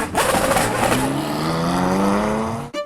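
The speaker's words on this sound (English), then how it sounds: "The F1 car in question is actually a Dallara GP2/08, which is basically a Formula 2 car with the Renault V8, which sounds absolutely amazing." A Dallara GP2/08 race car with a Renault V8 engine screams loudly and close, revving high and rising in pitch as it accelerates, then cuts off abruptly at the end.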